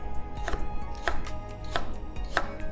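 A knife thinly slicing peeled ginger on a cutting board gives four evenly spaced crisp taps against the board, close and clear, with no talking.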